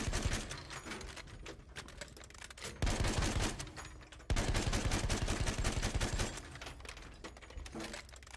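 Rifle gunfire in Battlefield 1 crackles nonstop as dense, rapid volleys of loud shots, with two sharp heavier blasts cutting in partway through the barrage of a busy battle.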